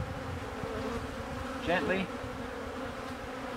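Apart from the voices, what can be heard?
honeybees buzzing while shaken into nuc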